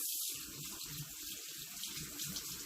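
Tap water running over a makeup brush in a sink during rinsing, a steady hissing stream with soft splashing pulses, close and continuous.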